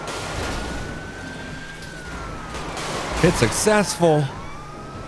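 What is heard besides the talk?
police car sirens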